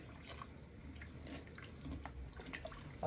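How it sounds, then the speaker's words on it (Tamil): Water is poured into a pot of sardine and mango curry, a faint, steady trickle over low kitchen background noise, closing with a brief louder splash. "நான் திருப்பியும் கொஞ்சம் தண்ணி விடுறேன்"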